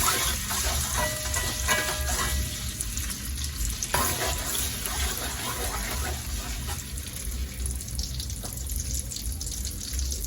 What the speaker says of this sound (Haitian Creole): La petite épice là font un petit frit dans l'huile là.